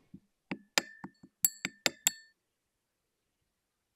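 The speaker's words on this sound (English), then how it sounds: "I then stirred it around and occasionally added more ethanol" Sodium-potassium metal stirred with ethanol in a glass container gives a handful of sharp glassy clinks and taps, close and distinct, spaced irregularly over two seconds before falling silent, with one faint tap at the very end.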